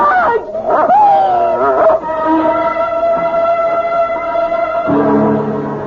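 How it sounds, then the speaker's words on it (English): A dog in an old-time radio mystery drama whimpers, yips and lets out a sustained, wavering howl, loud and close, with a dramatic sound-effect tone underneath. "It's only a dog, for Pete's sake. He's not going to hurt you."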